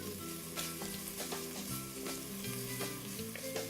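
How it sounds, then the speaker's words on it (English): Bacon fries in a soup pot and is stirred, giving a steady crackling sizzle with soft scrapes of the spoon, heard up close without any speech. "Give my bacon a little stir."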